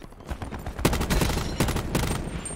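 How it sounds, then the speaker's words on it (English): Gunfire in the video game Call of Duty Blackout, loud rapid bursts of automatic shots fired in quick clusters, with a couple of sharper single reports. "There's another team firing at them."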